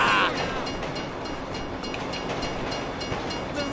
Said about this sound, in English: If you were local, you'd know the train comes by right now!